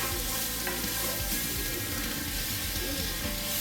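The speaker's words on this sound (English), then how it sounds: "in the drippings that we have left, we're going to cook our onions" Onions sizzle steadily in beef drippings in a pan for a beef stew, a dense, loud, continuous frying hiss with faint crackle throughout and no voices.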